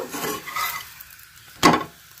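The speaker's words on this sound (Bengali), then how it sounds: "এইভাবে আমি সবকটা পরোটা ভেজে নেব।" A spinach paratha fries in a little oil on a nonstick pan: a soft, quiet sizzle, then a single brief scrape of a utensil against the pan near the end.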